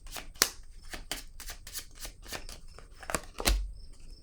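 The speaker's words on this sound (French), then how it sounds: "je vais piger une carte sur la cour" A card drawn from a deck during a French card reading, a string of close, crisp papery flicks and slides, fairly even in rhythm with a stronger rustle near the end, no talking.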